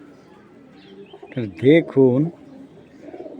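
A pigeon coos twice in close succession, loud and near, with someone speaking briefly around the calls.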